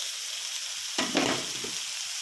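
Mushroom stir-fry sizzles in a pan, a steady hiss with a louder burst of frying about a second in, then settling back to a constant sizzle with no talking.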